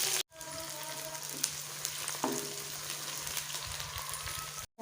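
Onions frying with cumin in a pan, a steady close sizzle and crackle with an occasional scrape of stirring, continuous between two brief cuts to silence, no voices.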